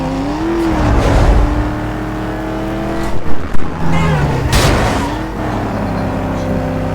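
Chevrolet Camaro SS racing in Need for Speed Most Wanted, its engine droning and revving loudly throughout, with shifting pitch, a few sharp bumps near the middle and a brief surge later; a voice talks over it.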